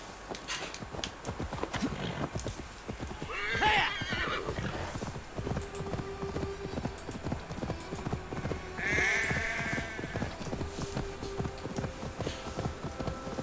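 A horse in the video game Assassin's Creed Valhalla whinnies twice over steady, rhythmic hoof clip-clops, with the neighs rising clearly above the trotting.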